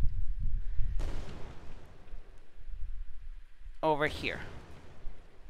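A flashbang grenade thrown by enemy AI in an Unreal Engine 4 stealth action game gives a sharp burst, followed a few seconds later by a brief shout, over low rumbling background noise.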